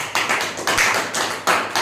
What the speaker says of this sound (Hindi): मैं चाहता हूं आप अपने लिए एक बार जोरदार ताली बजा दें।